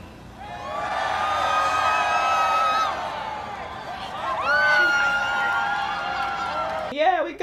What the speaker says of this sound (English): there was a video of people walking down the street and the lights cut on, and all these people start cheering